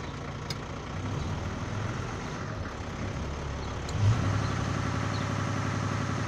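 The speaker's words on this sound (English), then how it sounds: "Idling at 580 revs and we'll bring the revs up." A Toyota HJ47 with its 2H diesel engine idles at a low, chugging rhythm, then the revs rise a little and hold higher, close and steady with no voices over it.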